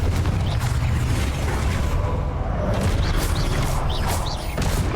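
Confringo fire spell explosions in Hogwarts Legacy during a battle, loud dense booms and crackling bursts packed together without pause, with sharp magical zaps layered over a heavy rumbling bed.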